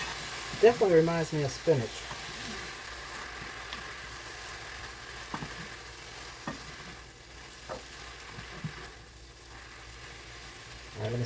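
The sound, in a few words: onions sizzling in cast iron skillet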